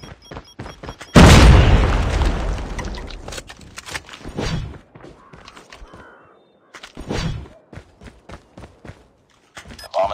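A Semtex grenade detonates in a first-person shooter game, a loud booming blast that rolls off over a couple of seconds, followed by quieter thuds, footsteps and combat noises.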